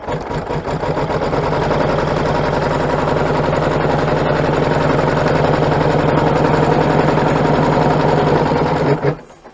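An embroidery machine stitches fabric held in the hoop for a zippered straw holder pouch, making a loud, steady rapid whirring hum that runs throughout and stops abruptly near the end.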